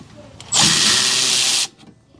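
A power tool drills out the rear brake caliper slide pin bolts on a Toyota Camry, one loud, steady burst of about a second, close up, with faint handling noise around it.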